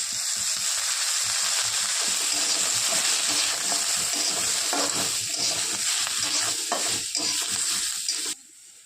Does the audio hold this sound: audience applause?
no